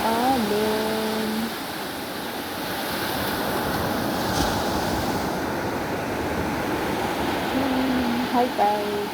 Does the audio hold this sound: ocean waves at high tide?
yes